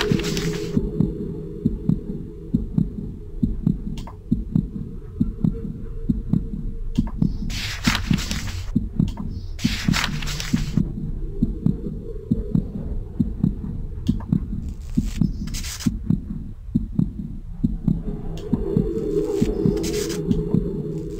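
A steady, pulsing heartbeat throbs continuously in a horror video game, a regular thumping rhythm that stays loud and close throughout, with occasional brief bursts of higher ambient noise layered over it.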